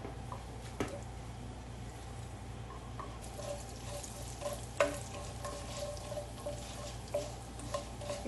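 Mustard, cumin and fenugreek seeds sizzle in two tablespoons of hot oil, a close, steady frying hiss with a few sharp pops and stirring clicks.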